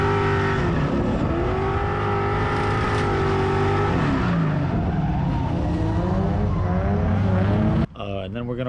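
Race car on track after flinging its belt and losing power steering, a loud sustained engine roar close by, the pitch rising and falling with gear changes and faint tire noise, cutting off abruptly near the end.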